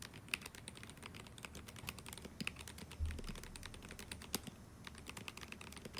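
Budget gaming keyboard keys clicking in rapid, irregular bursts of sharp taps, fairly quiet and close, with no talking.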